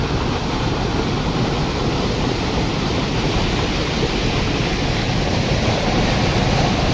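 A rain-swollen river rushes over stones, a steady loud broadband roar of water that fills the whole stretch without a break, close and with no voices.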